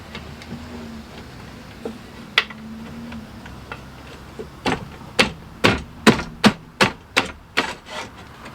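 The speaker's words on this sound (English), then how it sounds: "Chipping off a little wood there" Sharp wooden chipping knocks while fitting a wooden front piece for a vehicle gear plate system behind the passenger seat, a few scattered hits then a quick run of about eight close, loud strikes.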